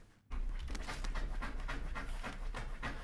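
Quick, rhythmic panting breaths from a dog, close by and steady, with no talking.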